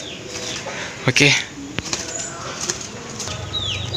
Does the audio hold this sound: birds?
yes